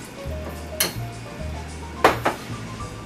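Beer tempura batter is stirred in a bowl over a low steady hum, with two distinct knocks of the utensil against the bowl standing out from the quieter mixing.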